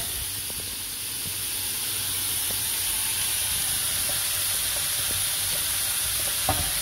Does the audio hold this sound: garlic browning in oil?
yes